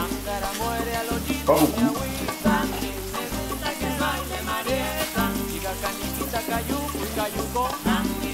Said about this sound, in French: Donc je vais ajouter un petit peu d'eau là-dedans